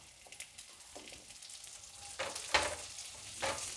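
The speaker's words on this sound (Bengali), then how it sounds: "তারপরে এর মধ্যে পেঁয়াজগুলো দিয়ে দেবো।" Onions drop into hot oil with a dried red chilli, starting as a faint, quiet sizzle that swells into louder bursts of frying and crackle in the second half.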